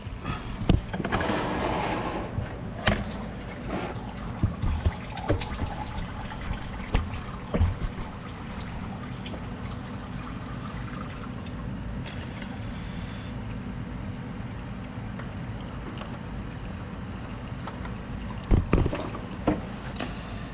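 Engine oil drains from a car's loosened drain plug into a catch pan, a continuous steady trickle with occasional sharp clicks and taps around it.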